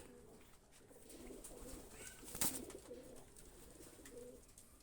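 Soft, low cooing of Pakistani high-flyer pigeons in repeated gentle phrases, fairly quiet against light background noise, with a brief sharp flutter midway.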